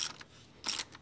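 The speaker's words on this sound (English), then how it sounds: "We'll get that nice and tight on the negative side" A ratchet wrench clicks in two quick bursts while tightening the bolt on a battery's negative terminal, close and fairly faint.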